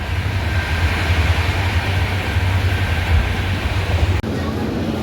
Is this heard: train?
yes